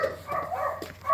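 Dogs bark and yip briefly at a house in a neighborhood, moderately near and fairly faint, in a short scrappy burst.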